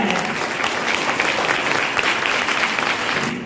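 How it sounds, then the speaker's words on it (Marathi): Loud, sustained applause from an audience at a school event, honouring the teachers, a dense continuous clatter of clapping hands filling the room for several seconds. "या सर्व शिक्षकांसाठी एकदा जोरदार टाळ्या"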